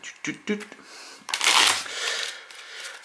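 A deck of playing cards shuffled by hand in two quick riffle bursts at close range, with people talking around them.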